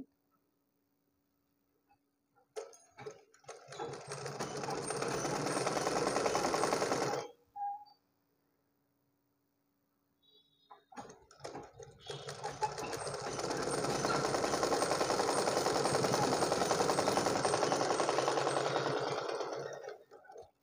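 Sewing machine stitching a blouse, running in two long steady bursts of rapid whirring separated by a pause of silence, close and clear, no talk.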